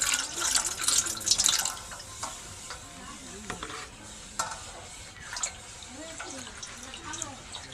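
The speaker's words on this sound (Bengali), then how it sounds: "সেম প্রসেসেই একটু বেশি করে জল দেব একটু গুলিয়ে নেব" Raw grated potato pulp being stirred by hand in a bowl of water while making homemade cornflour, with soft sloshing and swirling splashes that come and go near the mic, and a quiet voice in the background.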